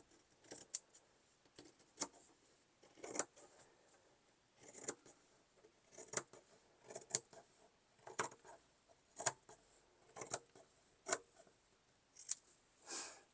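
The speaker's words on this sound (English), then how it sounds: "So I'm just going to cut along here." Scissors snip through quilted fabric for an iPad case sleeve, a series of roughly a dozen crisp, close cuts spaced about a second apart against quiet surroundings.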